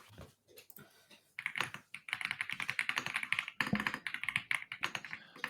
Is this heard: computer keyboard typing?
yes